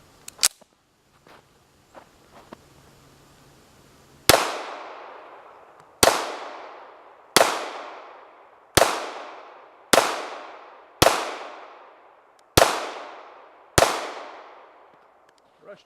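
A 1915 DWM P.08 Luger pistol firing 124-grain Remington rounds at a range: eight sharp, loud reports with ringing decays, spaced about one to two seconds apart, after a few faint handling clicks.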